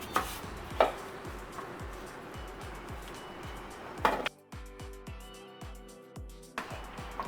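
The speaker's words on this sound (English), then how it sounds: "we're just going to go ahead and slice them up" A knife slices unpeeled Honeycrisp apples on a cutting board in a steady series of close, crisp chopping thuds, about two per second, with a few louder knocks against the board and no talk.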